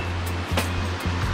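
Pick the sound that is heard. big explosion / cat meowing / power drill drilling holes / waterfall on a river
waterfall on a river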